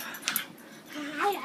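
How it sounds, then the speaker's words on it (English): A dog makes brief whines and yips close by, with soft high whimpers over a steady hum of background noise. "Susan loves Lana's dog Chase."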